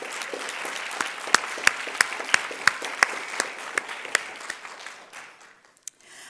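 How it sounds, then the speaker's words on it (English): An audience at a university anniversary symposium applauds, with steady clapping punctuated by sharp nearby claps in an even rhythm, fading out toward the end. "I think a round of applause."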